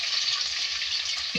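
Potatoes sizzling in hot oil with white cumin seeds, a steady bright hiss of frying throughout, close and without speech.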